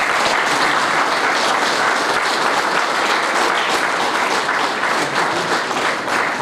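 An audience at a meeting of a history compilation committee claps together in sustained, dense applause, even and continuous for several seconds, fairly loud and without voices on top.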